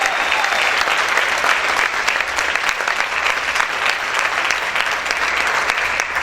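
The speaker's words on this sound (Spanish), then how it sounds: "Si yo fuera usted, aplaudiera fuerte al Señor." A church congregation claps hard and continuously, dense crowd applause holding at an even level for several seconds with no talk standing out.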